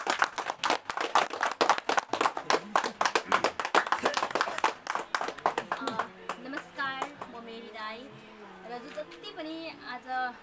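A crowd at a New Year 2078 celebration in Khotang claps loudly in quick, uneven bursts for about six seconds, then the applause thins out as a voice and other chatter take over.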